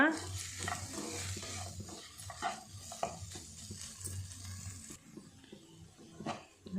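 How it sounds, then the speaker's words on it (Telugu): A spoon stirs and scrapes through a pan in repeated strokes while masala for capsicum paneer sizzles steadily underneath. "వేసుకొని ఇలా కలుపుకొని మరి కొంచెం వేగనివ్వాలి"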